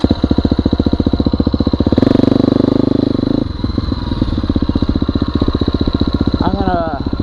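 A 2020 KTM 250 XC-F dirt bike with a one-tooth-smaller rear sprocket runs loud and close in fifth gear, holding a steady buzzing drone that shifts pitch midway.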